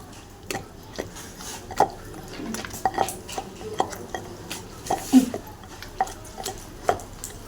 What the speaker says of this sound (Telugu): టమాటాలు వేసి మెత్తగా దంచుకోవాలి ఫ్రెండ్స్.